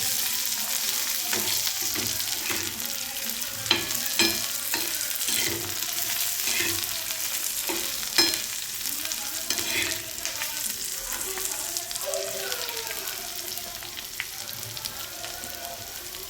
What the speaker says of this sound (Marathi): आणि लसूण अद्रक टाकून घ्यायचा आहे। हे सर्व भाजून घ्यायचं आहे।